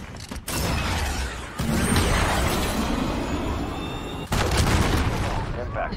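Cruise missile strike in Call of Duty Modern Warfare, loud roaring blasts and rumbling explosions with debris and mechanical rattles, broken by short gaps, under game radio chatter.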